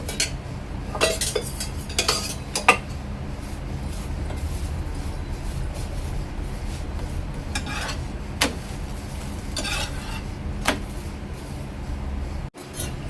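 A chapati is roasted on both sides in a pan, with light clinks and taps of a utensil against the pan over a steady low kitchen hum.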